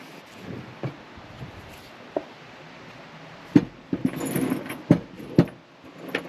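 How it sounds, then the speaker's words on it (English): Worn bolt cutters bite through metal, giving several sharp snapping clicks with soft metallic rattles and handling noises between them, close and fairly quiet against a calm outdoor background. "A bit worn out, these bolt cutters, but and they still go."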